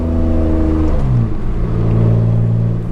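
BMW E36 M3 race car engine revving close and loud, pitch dropping on a shift then climbing steadily again as it accelerates, with no voices.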